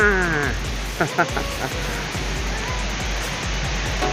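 Waterfall at Than Sawan in Doi Phu Nang National Park, a constant close roar of falling water with a voice speaking briefly over it.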